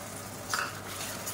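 Ginger garlic paste sizzles with onions in a hot pan while making white chicken biryani, a steady soft crackle with a brief stirring scrape midway, close and alone.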